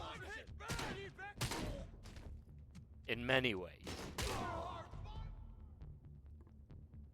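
Gunfire bursts and grenade blasts in the video game RoboCop: Rogue City, in a rapid volley of sharp shots and thuds that runs under someone talking throughout.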